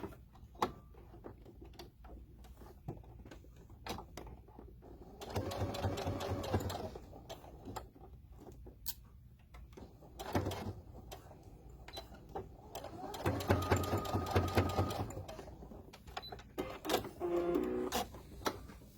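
Sewing machine stitching down the sides of a woven-fabric wristlet bag, running in two long steady bursts of rapid mechanical whirring with quieter handling clicks and pauses between them, close and moderately loud.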